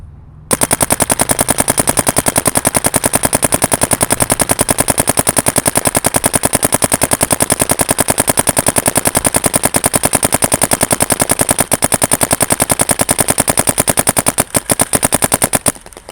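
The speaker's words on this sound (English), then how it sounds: "We're gonna shoot our first hopper" A Dye M3+ paintball gun fires a full hopper in one long, rapid, evenly spaced string of loud, sharp pops for about fifteen seconds, stuttering briefly near the end before stopping.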